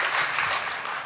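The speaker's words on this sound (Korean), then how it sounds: "So let's give her a round of applause." A church congregation claps for a new interpreter during a Korean-English bilingual Sunday sermon, a short burst of dense applause filling the room.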